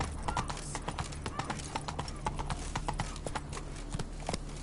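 Roach, the horse in The Witcher 3: Blood and Wine, galloping with rapid rhythmic clip-clop hoofbeats, close and steady, with a faint voice in the background.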